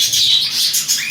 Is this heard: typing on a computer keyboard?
no